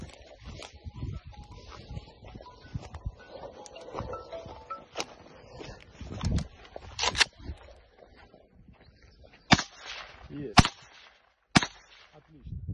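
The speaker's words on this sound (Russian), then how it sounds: "Давайте сейчас четко выстрел будет с патрона ПП." Police test body armour with gunfire, with several sharp, loud shots spaced apart toward the end, preceded by quieter rustling and faint voices in the background.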